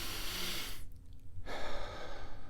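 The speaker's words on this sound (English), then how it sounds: "I'm going to take this breath." A slow, deliberate breath drawn in and let out, close to the mic, with a full airy inhale, a short pause, then a long exhale.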